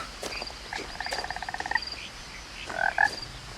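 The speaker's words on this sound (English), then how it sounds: "I can hear a frog" Frogs croak in a quiet outdoor scene in What Remains of Edith Finch, with rapid pulsing croak trains and a few higher chirps over faint ambient hiss, no one speaking.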